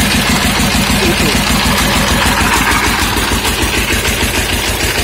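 A small used diesel engine drives a secondhand water pump irrigating rice paddies, thudding steadily and loudly up close with an even rhythmic chug throughout.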